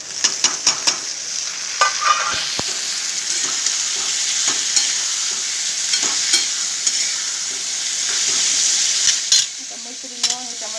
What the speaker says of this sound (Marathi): आता ह्याच्यामध्ये मी टमाटे टाकणार आहे